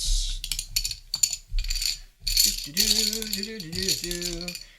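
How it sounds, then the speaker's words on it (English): Plastic game tiles clatter in short, rattling bursts as they are shuffled close by, and a voice speaks over the later clattering. "they're made out of this, plasticky material, so they make this clickety-clack noise while they're shuffling"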